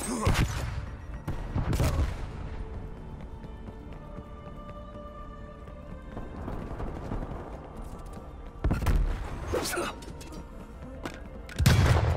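Black Ops Cold War match with a flashbang grenade thrown, loud bursts and booms at the start and again later amid scattered gunfire and footsteps, quieter game ambience between.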